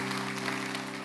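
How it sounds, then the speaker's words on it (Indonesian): Church congregation applauding during a sermon, a steady, dense wash of clapping that fills the whole moment, with a sustained hum or musical drone running underneath. "Oh kasih tepuk tangan untuk Tuhan."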